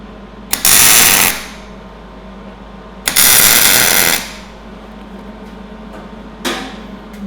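Welding bursts tacking steel coffee table pieces in a jig: two loud crackling, hissing bursts of about a second each, separated by quiet, followed by a shorter, fainter burst at the end.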